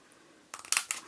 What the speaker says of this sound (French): je vais couper au ciseau parce que c'est une petite surface.